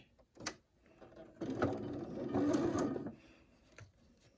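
A sewing machine stitches quilt fabric along a curve, a short run of rapid mechanical whirring lasting about a second and a half, quiet and close, with a few small clicks before and after.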